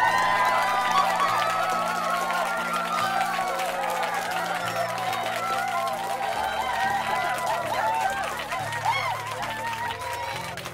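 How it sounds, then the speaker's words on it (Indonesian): Classroom applause in a Sakura School Simulator drama scene after a student's poem, a steady crowd-like clatter of clapping over a low looping backing tune, with voices mixed in. "Berikan tepuk tangan untuk Zeva dulu ya anak-anak"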